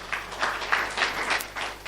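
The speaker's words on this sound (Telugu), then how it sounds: "అలే చప్పట్లు కొడదామా." A church congregation claps along at a sermon, a soft, steady patter of many hands in quick irregular rhythm, fairly quiet and with no voices over it.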